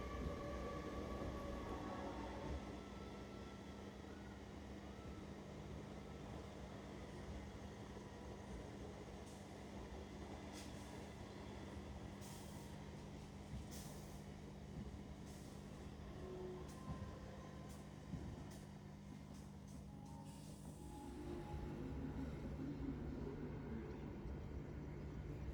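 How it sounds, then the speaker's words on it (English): A Mumbai local train departs Vidya Vihar station, heard as a steady low rumble with a sustained motor hum and intermittent metallic clatter, somewhat distant and heard from aboard another train. "You can see a local train departing from Vidya Vihar station towards Mumbai CST"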